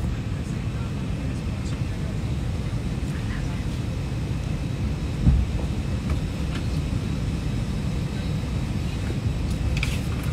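Steady, broadband roar inside an airplane cabin during takeoff, a loud constant engine and air rush with no breaks, one faint thump partway through.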